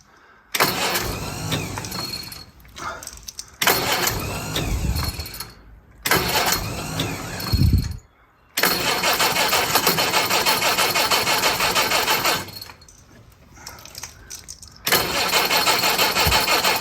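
A Crosley car engine on full choke cranking in several separate bursts, each ending in a brief sputter before falling silent, then catching and running at a steady fast idle, close and fairly loud, no talk.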